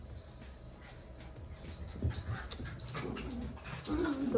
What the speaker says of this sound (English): Excuse my heathens of dogs, they don't know how to act.